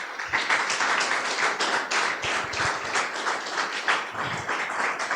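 A church congregation claps in praise of Jesus, quick uneven rhythmic clapping from many hands at moderate distance, swelling and easing in waves without talk.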